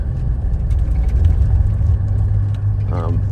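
A 1984 GMC Suburban K2500 with a Detroit diesel engine, heard from inside the cab while driving, gives a steady low, loud rumble for a few seconds with a faint whine near the end.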